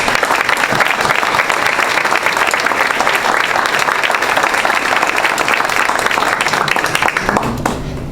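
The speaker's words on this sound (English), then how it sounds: "I think we should give them another round of applause." An audience at a school district ceremony honouring its 2017 retirees gives them a round of applause: loud, dense clapping from a room full of people, steady for about seven seconds and then cut off abruptly.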